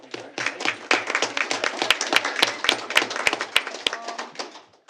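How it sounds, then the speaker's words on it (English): An audience at a school board meeting gives a round of applause, with steady, dense hand clapping and some sharper individual claps standing out, continuing for several seconds. "so we give her a round of applause"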